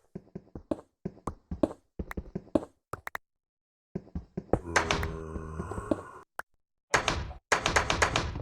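Doors in the game Minecraft open and close in a rapid series of short wooden thunks and taps, followed by denser clattering bursts with brief pauses between them, close and clear with no talk.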